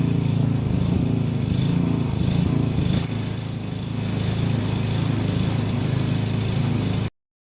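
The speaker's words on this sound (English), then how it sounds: "pressure washer didn't want to start, so it needed a little coaxing, and then only ran on like half choke" A pressure washer's small engine idling unevenly on half choke after a hard start, a steady close drone that dips briefly midway, then cuts off abruptly.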